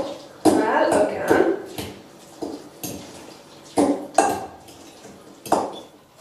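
Guacamole being mixed in a bowl, with a series of loud, irregular clinks and knocks of a utensil against the bowl, separated by brief pauses, under intermittent talking.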